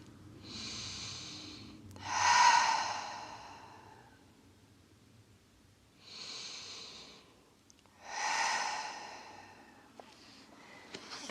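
Two slow, deep yoga breaths, each an inhale followed by a longer, louder exhale, are heard close and clear in a quiet room.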